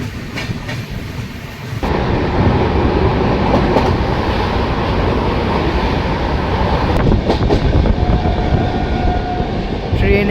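The Digha–Visakhapatnam Express rolls along the tracks past Srikakulam Road, a loud, steady rumbling roar with rhythmic wheel clatter heard from on board, starting up after a quieter opening second.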